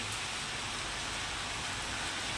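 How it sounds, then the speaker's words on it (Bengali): Steady rain falls continuously as evening approaches, heard from an open rooftop after days of downpour. It makes a soft, even hiss with no voices. "ক্রমাগত বৃষ্টি হচ্ছে।"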